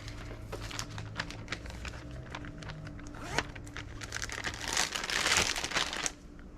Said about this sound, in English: Get your Ziploc baggie.